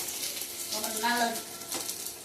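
Onions hit a hot pan and start frying, a close, steady hiss and sizzle with faint stirring scrapes, briefly overlapped by a voice.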